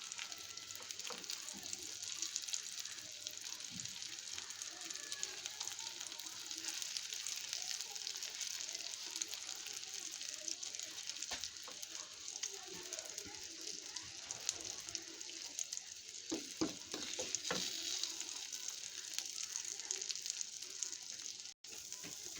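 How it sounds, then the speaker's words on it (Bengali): Egg with cabbage frying in oil in a home kitchen pan, a steady close sizzle running throughout with occasional pops and stirring clicks, no talking. "ডিমটা দিয়ে দিয়েছি আমি তেলের মধ্যে"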